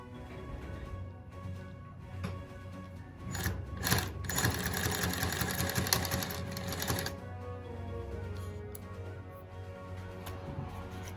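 A Fusion high post sewing machine with a wig attachment runs in a steady rapid mechanical chatter, its needle cycling down repeatedly, with a louder burst of stitching in the middle before settling back to a steady hum.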